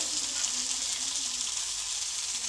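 Steady close sizzling of cashews and coriander leaves frying in oil with cardamom, cloves and cinnamon for a dhaba-style mushroom gravy, a continuous even hiss with no talking.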